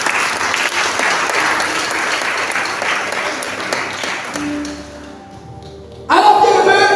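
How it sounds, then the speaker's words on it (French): A church congregation at a midday worship session bursts into sustained applause and cheering, dense and loud, then fades to quiet before another sharp swell of clapping erupts at the end. "Donc des acclamations au Saint-Esprit."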